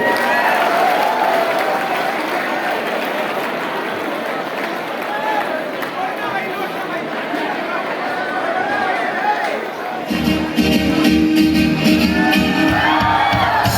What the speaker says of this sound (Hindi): ये तालियां भवन को